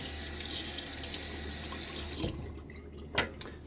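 A tap runs in a steady, close stream for a full rinse after shaving, then shuts off, leaving a few faint drips and splashes.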